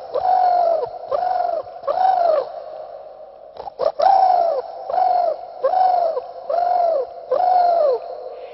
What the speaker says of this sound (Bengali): দুপুরে নিস্তব্ধতা ভঙ্গ করছে একটা বসন্তী বৌরি পাখি, আর এর সঙ্গে সুর মিলিয়েছে একটা ঘুঘু পাখি